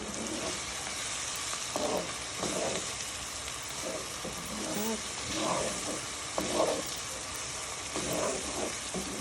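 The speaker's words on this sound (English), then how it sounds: "stir this in and wait for it to continue frying" Cabbage and potatoes sizzle and fry in a pan with a constant crackling hiss, while a voice speaks softly at intervals over the cooking.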